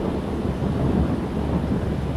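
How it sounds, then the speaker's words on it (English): Low, continuous rumbling thunder in the FlightFactor 777 flight simulator, a steady dull roll with soft rain-like hiss, moderately loud and unbroken, with no talk. "Listen to those thunder effects."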